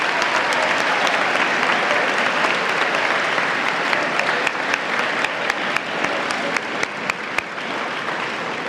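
Steady crowd applause fills a school awards ceremony hall as recipients are honored, loud and even throughout, with scattered sharper single claps poking through toward the end.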